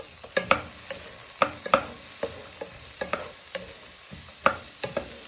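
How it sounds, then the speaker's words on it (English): Spicy Mexican turkey meatballs fry in a pan, a steady close sizzle broken by irregular scraping stirs and clacks of the utensil against the pan, with no talking. "So you're just going to give them a good fry so they get some colour on them"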